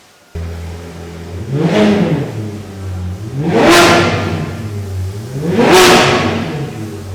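Manual-gearbox Ferrari 430 sports car with a gated shifter, its engine idling then revving hard three times in a steady rhythm, each rev climbing and falling back to a close, loud idle.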